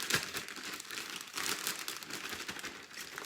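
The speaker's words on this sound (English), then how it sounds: "we're going to put the meat in a bag and just kind of coat these with a little bit of this flour" Close, continuous crinkling of a bag as beef is shaken inside it with flour, salt and pepper, a busy rustling texture with no speech.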